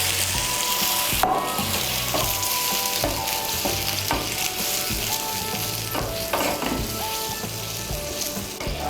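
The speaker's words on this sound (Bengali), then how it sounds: "আমি চিকেন সেদ্ধ করার যে জলটা ছিল সেই জলটা এর মধ্যে আমি দিয়ে দিচ্ছি।" Chicken stock splashes into hot spiced chicken for a dhaba-style chicken bharta, setting off a loud, steady sizzle with repeated metal spoon scrapes and clinks against the pan.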